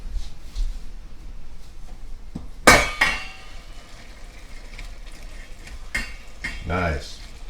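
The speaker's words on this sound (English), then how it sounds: "I'm going to give that meal a stir." A spoon stirs a pot of mackerel noodle casserole, giving a sharp metallic scrape and clatter near the start, then softer scraping and a brief burst of sizzling later, all close and moderately loud with no talk.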